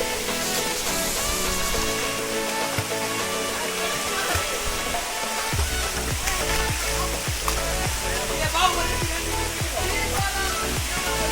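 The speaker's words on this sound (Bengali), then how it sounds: "এটা হচ্ছে মেইন ঝর্ণাটা" The main waterfall on the Napittachhara trail roars as a dense, continuous rush of falling water, loud and close, with faint music layered over it.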